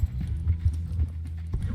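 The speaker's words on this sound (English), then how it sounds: "There's a horse here." A horse's hooves clip-clop close by in an irregular run of dull, heavy thuds, with no other sound over them.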